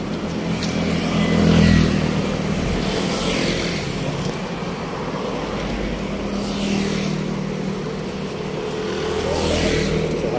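Motorcycles and cars pass along a street near a construction site, engines swelling and fading as several vehicles go by in turn, with steady traffic rumble in between.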